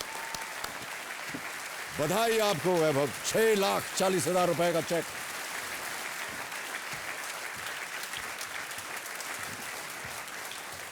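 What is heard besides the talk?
studio audience applause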